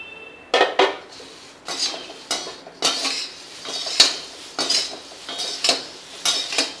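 Poha flakes dry-roasting in a pan over medium heat, stirred with a metal spoon: repeated scraping and clinking strokes in an uneven rhythm, close and fairly loud, with a faint sizzle between strokes.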